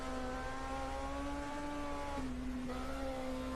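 A turbocharged race car from the 1979 German DRM Division 2 championship accelerates hard along a straight, its loud, continuous engine drone holding steady before a brief dip and shift in pitch partway through, with no talk.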